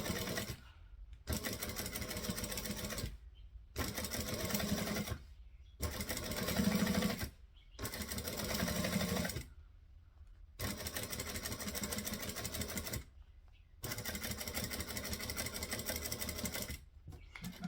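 A sewing machine stitches across the bottom of a bag with needle-down pauses, running in repeated steady bursts of a couple of seconds each, close and loud, with brief silent gaps between runs.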